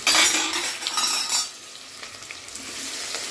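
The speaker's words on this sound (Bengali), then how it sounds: "এবার পেঁয়াজটাকে খুব করে লাল করবো" Onions fry in a pan for biryani, a loud hissing sizzle with scraping stirring strokes that fades into a quieter steady frying, close up with no voices.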